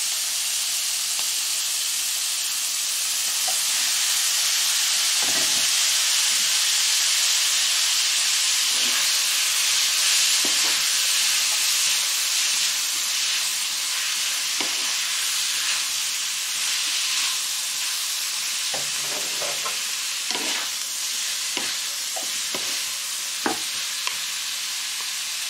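Chinese-style spaghetti with vegetables and tuna sizzles in a hot pan, a steady frying hiss broken by repeated scraping stirs throughout.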